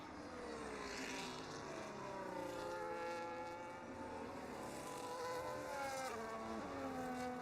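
A race car in a racing game at Imola, running off the track over grass and gravel, with a steady engine drone whose pitch sweeps up and down through gear changes, moderately loud and continuous.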